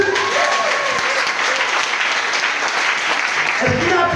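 A church congregation applauds during a worship service, a loud, sustained wash of many hands clapping together, with voices mixed into the crowd noise.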